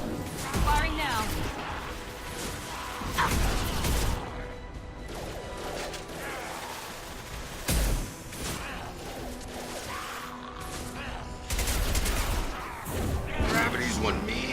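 Gunfire from the video game Mass Effect 2, rapid bursts of shots and impacts layered with mechanical game effects and whooshes, mixed under a voice talking.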